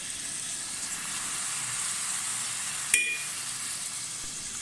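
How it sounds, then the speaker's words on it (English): Onion sizzling in hot oil in a pot: a steady, fairly loud frying hiss that continues throughout, with one sharp click partway through and no voices. "here I have some oil in my pot, which I'm now going to heat, and I'm going to add the onion in here"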